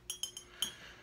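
A glass mason jar clinks a few times as it is handled, with three quick bright taps followed by one more. The clinks are faint and close, over quiet room noise.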